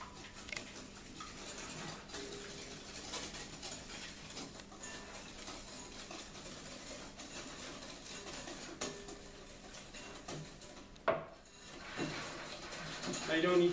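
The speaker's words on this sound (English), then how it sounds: "I'm going to whisk in the sugar" Sugar whisked into eight egg yolks for creme brulee, a faint steady ticking and scraping of the whisk against a bowl, continuous and quiet, with a soft clatter near the end.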